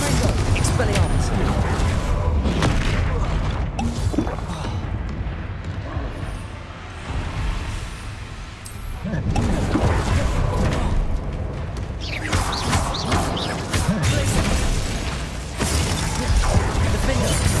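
Confringo blasting spell cast during spell combat in Hogwarts Legacy, with bursts of explosive crackle and impact amid loud, busy fight noise, mechanical clanks and a voice calling out spells.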